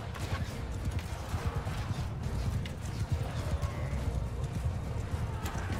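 Continuous thudding of horse hooves in the Mount & Blade 2 Bannerlord video game, a dense galloping rumble amid battle noise, steady and fairly loud throughout.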